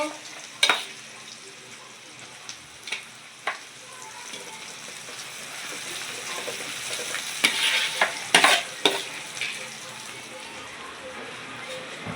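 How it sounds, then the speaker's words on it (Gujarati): Asafoetida and green chillies hit hot oil in a pan for a lila tuver kachori filling, giving a soft, steady sizzle broken by a few sharp stirring clinks and scrapes. "આપણું તેલ ગરમ થઈ ગયું છે હવે તેમાં નાખીશું હિંગ પછી નાખીશું લીલા મરચાં નાખીશું"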